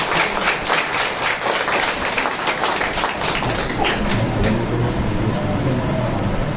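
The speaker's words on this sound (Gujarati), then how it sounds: "બે તાળી થઈ જાય બેન માટે જોરદાર" Audience applause at a leaders' training meeting in Dholka, dense steady clapping from a crowd throughout, loud and close.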